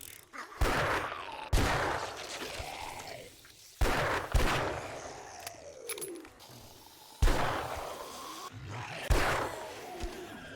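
Gunfire in the video game 7 Days to Die: loud, close bursts of shots arriving in several separate volleys with booming tails and echoing roars between them.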